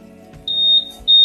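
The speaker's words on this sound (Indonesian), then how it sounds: "di sini sudah bisa kita pilih untuk tingkatan volume answer back pada motor" A Honda PCX 160 scooter answers its remote with two loud, high electronic beeps in quick succession, heard close and alone.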